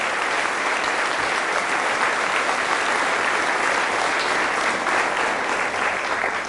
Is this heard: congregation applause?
yes